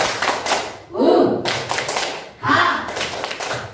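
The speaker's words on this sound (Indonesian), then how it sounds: "Satu kali lagi, tepuk semangat." A classroom of students repeats a rhythmic spirit clap, close, loud patterned clapping in two short bursts with chanting voices mixed in.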